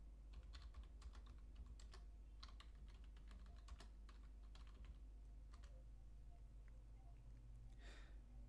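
Quiet clicks of a computer keyboard as a command is typed, light irregular keystrokes in short bursts over a low steady hum.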